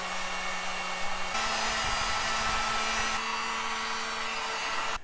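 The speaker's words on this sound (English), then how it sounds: "Now I'm going to get my heat gun and just melt the sucker." A heat gun shrinks tubing over wiring during a Holley Sniper install on a Toyota FJ40, giving a steady, loud blower roar with a whining tone that shifts pitch slightly partway through and runs unbroken, close by.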